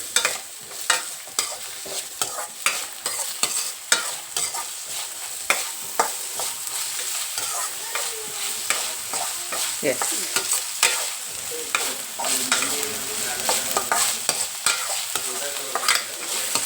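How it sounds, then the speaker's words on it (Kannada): Chopped onions fry in a hot pan with a constant sizzle, while a spoon scrapes and stirs in quick, repeated strokes that sound close and fairly loud throughout. "ಇದು ಸ್ವಲ್ಪ ಬ್ರೌನಿಷ್ ಆಗಲಿ ಆನಿಯನ್ನು"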